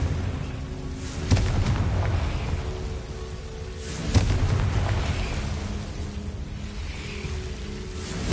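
A Confringo blasting spell going off in Hogwarts Legacy: a couple of sharp booming bursts over a dense rumbling, crackling wash, with no talk.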